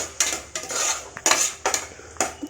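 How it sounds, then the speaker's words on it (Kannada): Metal spoon scraping and clinking in a pan while ginger-garlic paste fries with tomato, sounding as about five distinct close strokes in a steady rhythm, with no talking. "ಅದು ಹಸಿ ವಾಸನೆ ಹೋಗೋವರೆಗೂ ಫ್ರೈ ಮಾಡ್ಕೋಬೇಕು."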